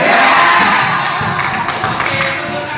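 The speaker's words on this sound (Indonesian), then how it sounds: "Oke, tepuk tangan dulu" A classroom audience claps and cheers after a magic card trick, a loud, dense burst of applause with excited voices that holds steady, then eases slightly toward the end.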